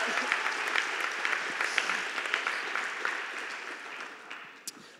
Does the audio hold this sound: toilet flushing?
no